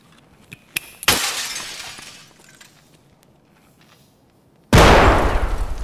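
Grenade tossed through a window in a video game: a sharp glass shatter with scattered tinkling fragments, then a loud, sustained blast near the end, with no talking.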